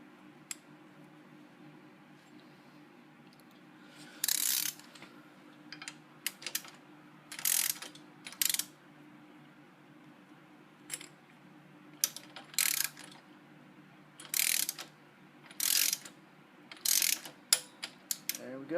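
A ratchet wrench tightens an engine guard clamp on a Honda CTX700N motorcycle, giving short bursts of rapid close clicks separated by pauses, over a low steady background hum.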